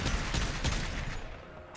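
Rapid bursts of Aklex Prime pistol fire in the Warframe video game, a dense flurry of overlapping shots that stays loud for most of the moment before thinning out toward the end.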